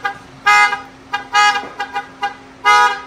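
A vehicle horn honks as its button is pressed, giving three loud, clear toots separated by short gaps, with a few softer clicks between them and a steady low hum running underneath.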